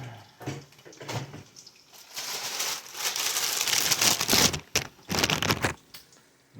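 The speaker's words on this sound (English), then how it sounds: "Just like a caveman, just ripping it open." A package is torn open by hand without scissors, bursts of ripping and crinkling plastic or paper coming in uneven clusters, close and fairly quiet.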